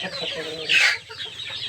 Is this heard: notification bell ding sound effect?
no